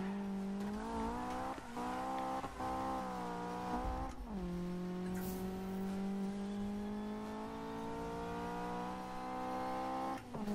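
An Acura RSX-S driving in Need for Speed 2015, its engine droning loud and close with steady tonal whine that rises and drops through gear shifts and revs, with no voices.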